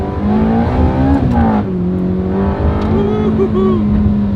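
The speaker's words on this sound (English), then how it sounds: "let's just enjoy some of the sounds of this car" A loud Ferrari Challenge Stradale engine with a manual gearbox revs and drones steadily, pitch rising and falling through several gear changes, close and continuous with a voice faintly underneath.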